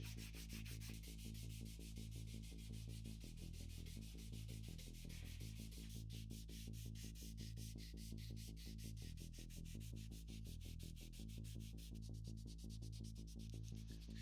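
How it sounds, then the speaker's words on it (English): Steady back-and-forth rubbing of sandpaper by hand on a handmade Leuku knife handle, a continuous rhythmic scratching with a faint repeating background hum, quiet and close with no talk. "it's just a lot of hand sanding to get the handle down to the desired finish"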